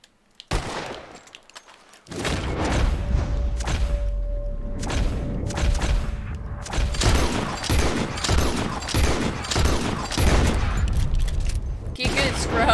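Rapid volleys of gunfire in Red Dead Redemption 2 as a hunter shoots at birds flying up, loud repeated bursts over a steady outdoor ambience, with a player talking over the shots.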